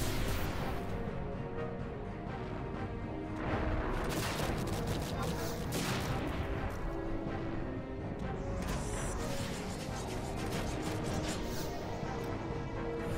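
Rapid ranged velocity shots fired in a Final Fantasy XI battle, a dense, continuous barrage of gunfire-like bursts and booms layered over busy game music and effects.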